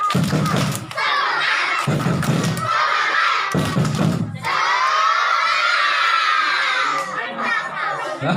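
Children at a school Maulid Nabi celebration perform a rhythmic clapping chant: three bursts of loud group claps and thumps, followed by a long stretch of the children chanting and shouting together, loud and close.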